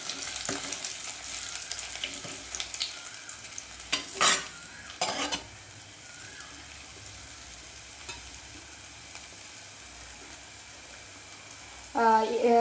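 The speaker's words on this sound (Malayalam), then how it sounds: "ഇതിലേക്ക് ചതച്ച ഇഞ്ചി ഇട്ട് കൊടുക്കാം. നന്നായി ഇളക്കാം." Crushed ginger frying in a pan for a Kerala sardine curry, stirred with a spoon: soft, steady sizzling throughout, with a few brief scraping stirs partway through and near the end, faint and close.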